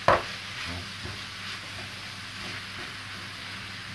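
Minced beef browning in a pan, a steady broadband sizzle holding at moderate level throughout after a brief louder clatter at the start, with no talking.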